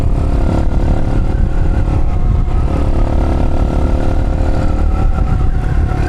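Motorcycle engine revving hard as it accelerates to pass a Jeep, a loud, close, steady roar with clattering mechanical texture throughout and no talk.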